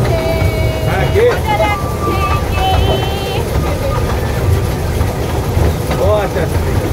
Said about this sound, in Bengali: আর এই যে ড্রাইভার উঠে গেছে ট্রেনে, ট্রেনটা ছাড়বে।